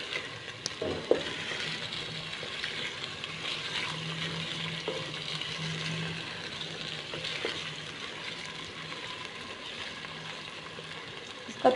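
Chicken stirred in a hot pan with steady frying hiss throughout, a few scraping utensil clicks near the start and end, close and moderately loud with no talking.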